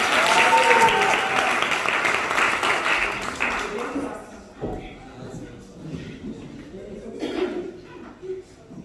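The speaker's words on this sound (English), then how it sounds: "Let's give her another round of applause." Audience applause at a school social cohesion debate in Phoenix, strong clapping for the first few seconds that fades into scattered claps, murmurs and chuckles from the crowd.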